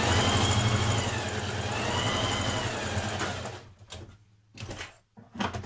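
Sewing machine stitching the side seam of a stretch-fabric sleeve band for a bomber jacket, a steady close mechanical whirr for about three seconds, then stopping into a few short bursts.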